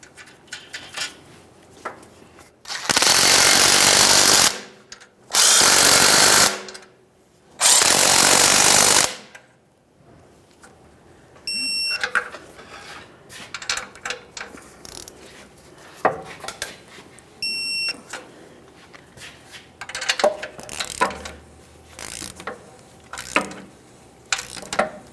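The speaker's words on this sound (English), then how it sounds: "Go ahead and start those on, bottom them out, and then torque those to 37 foot-pounds." Exhaust manifold nuts on a 1999-2006 Chevrolet Silverado 1500 4.3L V6 are run down with three loud, sustained bursts of a power tool, followed by scattered metallic clicks and clinks of hand tools while torquing.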